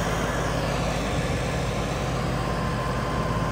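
A John Deere 55 CRDI tractor engine runs with a steady, dense low drone, loud and unbroken with no pauses.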